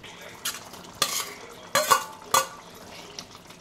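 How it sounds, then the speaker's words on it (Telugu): Boiled potatoes are added to a pan of pea curry and stirred in. A spoon scrapes and clinks against the pan in four or five distinct strokes, with a soft simmering hiss underneath. "ఇందులో ఆలుగడ్డ వేయాలి."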